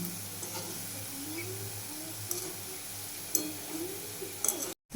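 Ripe mango fritters frying in hot oil, a steady close sizzle with occasional light clinks of a utensil against the pan.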